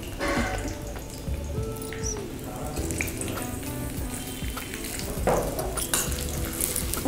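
Capsicum and carrot fry in a pan with a steady, crackling sizzle. Occasional stirring scrapes and small pops sound up close throughout.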